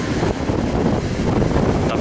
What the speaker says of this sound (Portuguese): Olha a ventania.